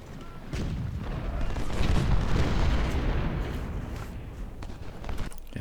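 Civil War artillery firing in the strategy game Ultimate General: Civil War, at the Port Republic battle: a rolling barrage of deep booms and rumbling blasts that builds after a quiet start, with scattered sharper cracks toward the end.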